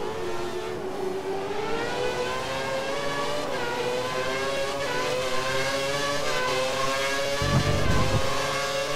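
A Sauber race car in F1 2013 on the China circuit accelerates out of a corner, its engine climbing in pitch through gears, loud and sustained with no voices.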